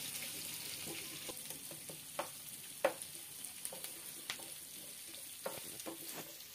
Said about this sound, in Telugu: కట్ చేసుకున్న పచ్చిమిర్చి, అలాగే సన్నగా కట్ చేసుకున్న ఉల్లిపాయ ముక్కలు కూడా వేసుకొని ఫ్రై చేసుకోవాలి